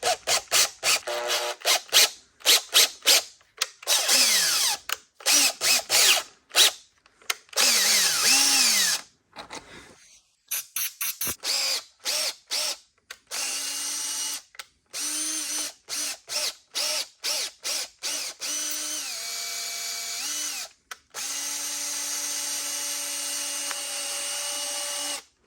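Cordless power drill driving a 1/4-20 tap into a metal block, heard in many short bursts of whine with gaps between, some slower pulses and a ratcheting tone, close and loud.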